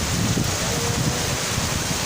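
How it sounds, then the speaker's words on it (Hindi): Heavy rain during a dangerous downpour, a loud, constant hiss that continues unbroken and close by, with wind-like rushing and no voices. "बहुत तेज़ बारिश है"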